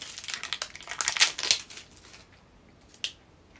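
A plastic package of Nikko sasame tokoroten (jelly noodles) from a discount grocery is handled and opened, giving a cluster of sharp, close crinkles and snaps that fades to near quiet, then one last brief crackle.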